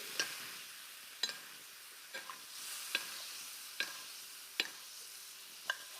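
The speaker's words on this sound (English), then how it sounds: "Get that fish in that lovely foaming butter." Fish fries in foaming butter in a pan, a soft steady sizzle punctuated by sharp, regularly spaced clicks and taps about once a second, quiet and close with no talking.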